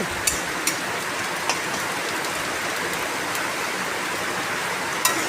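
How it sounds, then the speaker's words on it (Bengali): Onions fry in a pan for khichuri, giving a steady, dense sizzle with a few sharp pops scattered through it. "পেঁয়াজটা একটু ভালো করে ভেজে নিই তারপর ফোড়নটা দেবো"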